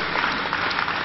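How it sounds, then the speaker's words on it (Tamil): Brief burst of audience applause at an astrology conference book release, a dense, even patter of many hands clapping for about a second. "பலத்த கைதட்டு கொடுங்க"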